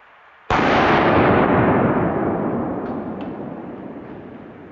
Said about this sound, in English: we're shooting this one out of the Canik TP9 SFX